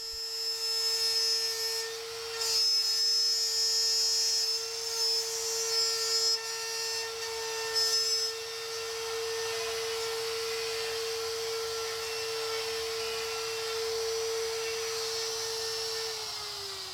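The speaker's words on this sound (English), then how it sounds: "Turn on the router and plunge into the wood and ride the guide bushing along the cutout." A plunge router with a guide bushing following a template to cut a hinge mortise in wood, giving a loud, steady high-pitched whine with shifts in load as it cuts, then winding down at the end.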